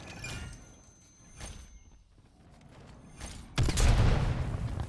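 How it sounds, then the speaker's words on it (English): Stun grenade going off in a video game: scattered shots and clatter give way to a sudden loud burst that keeps ringing and rumbling to the end. "Stun grenade out."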